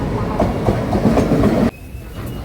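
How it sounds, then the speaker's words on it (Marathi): A Jan Shatabdi passenger train rolls loudly past a station platform, steady rumble and wheel clatter close by, then the noise drops abruptly as the coaches pass or halt, leaving a quieter hum. "तर आत्ताच ट्रेन इलेली आहे बरोबर ऑन टाईम."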